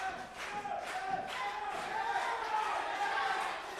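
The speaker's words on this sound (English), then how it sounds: "Loud crowd tonight here." A loud crowd at a live pro wrestling show cheers and yells in a venue, a continuous roar of voices with shouted bursts rising and falling behind close talk.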